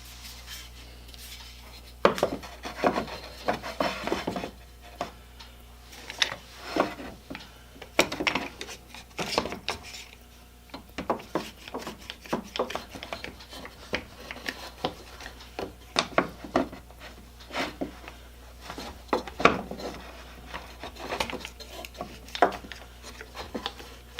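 A draw knife blade being flattened and sharpened on a bench, heard as repeated short scraping and rubbing strokes of steel against an abrasive, close and moderately loud with irregular pauses and light metallic clinks between passes.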